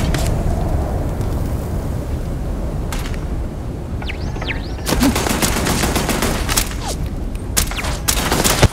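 Rapid gunfire bursts in the video game Starfield, loud and close over a steady background drone, with several automatic volleys in the second half.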